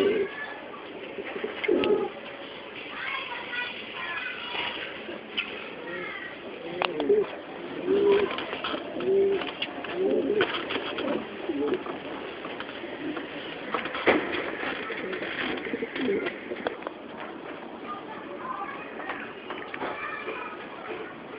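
Racing pigeons coo repeatedly in a loft, with soft rolling calls recurring across the whole stretch at moderate distance and faint voices and small knocks in the background.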